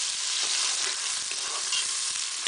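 Onions hit hot oil in a pressure cooker for aloo gobi, giving a dense, loud, continuous sizzle with crackling pops throughout, heard close up and alone.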